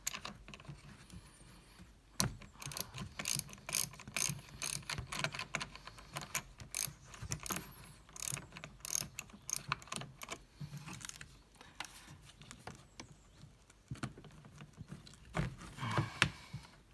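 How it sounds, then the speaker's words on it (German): Quick bursts of clicking from a ratchet loosening the negative battery terminal on a Seat Leon Cupra, close and crisp, separated by short pauses, with a quieter stretch near the end and no one speaking. "Schrauben wir ein Minuspol weg."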